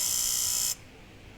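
A faulty gearbox solenoid valve on a Naza Citra gives a steady electric buzz briefly, then cuts off abruptly, leaving quiet background noise.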